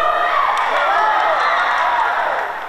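Fans at a water polo championship in Bauru cheer and shout in a loud, continuous crowd roar that holds steady before easing slightly at the end.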